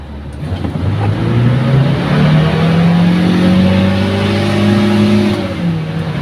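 A carbureted car with the air conditioning on accelerates hard from 2000 rpm, its engine note rising steadily in pitch across several seconds, loud and close, with no voices.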